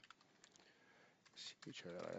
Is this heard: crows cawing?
no